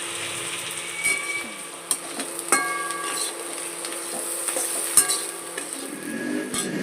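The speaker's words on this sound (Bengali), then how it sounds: "সবজিগুলো সব ভাজছি" Vegetables stir-fried in a pan for a home breakfast of chow mein give a soft, steady sizzle, broken by sharp clinks and scrapes of a utensil against the pan, close and with no talk.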